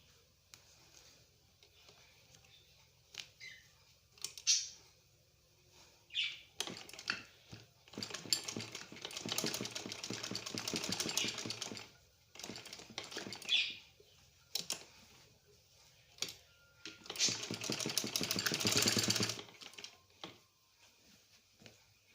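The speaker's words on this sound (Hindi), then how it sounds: "यहाँ पे हमें डबल स्टिचिंग करनी है क्योंकि ये पेपर लगा हुआ है तो बहुत ज़्यादा थिक है" A sewing machine double-stitches thick kameez fabric backed with paper. It runs in several quiet bursts of rapid mechanical clatter separated by short pauses, and the longest runs come in the middle and near the end.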